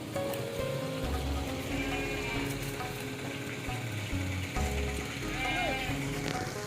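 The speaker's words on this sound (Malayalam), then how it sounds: "ആടുകളെ മേച്ച് വരുന്ന വരികയാണ്" A herd of goats bleats as a herder drives them along near Anniyanpara, with scattered calls over constant outdoor noise and rustling. People talk throughout.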